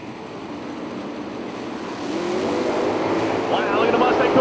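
A Mustang drag race car engine at a Florida drag strip, a steady roar growing louder as the car runs, heard from the stands under an announcer's talk.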